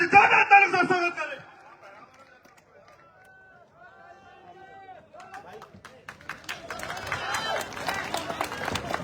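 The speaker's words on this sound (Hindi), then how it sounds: "जोरदार तालियों से स्वागत करें" Crowd at a political rally welcoming Chandrashekhar Azad, clapping that swells up in the final few seconds after a loud voice and a quieter spoken stretch.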